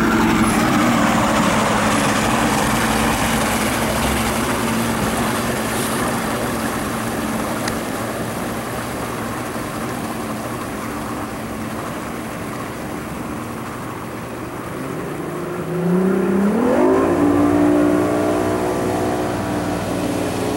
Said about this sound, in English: Mike's going to start her up. All of your two-stroke fuel-injected engines will smoke